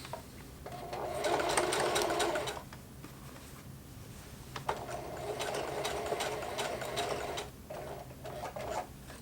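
A Singer Heavy Duty sewing machine stitches a thick denim jeans hem in two long bursts of rapid, steady stitching, pausing briefly between them, with mechanical clatter close by.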